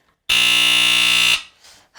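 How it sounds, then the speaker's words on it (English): A smoke detector blares a loud, piercing, steady electronic tone for about a second, then cuts off abruptly, leaving faint room noise. "Yes, it's a smoke detector."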